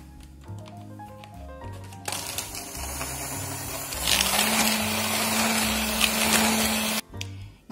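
An electric mixer whips butter with granulated sugar for a budget seasonal fruit pie, a steady loud whirring drone that starts after a few seconds and runs continuously before cutting off near the end.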